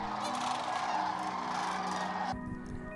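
A sarus crane, the world's largest flying bird, native to India, gives a loud, continuous trumpeting call that cuts off abruptly near the end, leaving a faint background hum.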